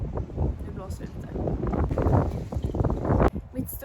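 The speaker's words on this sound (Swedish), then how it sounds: "det blåser lite" Wind blowing outdoors, buffeting the microphone in a steady rushing roar that swells and gusts, with a voice talking over it.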